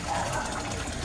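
An Aquaspeed submersible pump churns bubbles in a koi pond, producing a brief, dense, continuous bubbling and gushing of water, loud and close.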